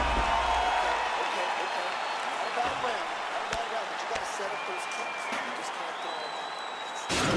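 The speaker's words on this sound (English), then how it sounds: "So the crowd voicing its appreciation after that round" A virtual arena crowd in EA Sports UFC 4 applauds and cheers after a round, a dense continuous roar of clapping and voices, with a commentator talking over it.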